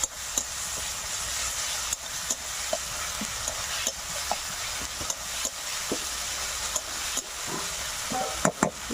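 Ginger-garlic paste is stirred into a frying tomato fish curry of mixed pond fish. A continuous oil sizzle runs under repeated sharp clinks and scrapes of a spoon against the pan.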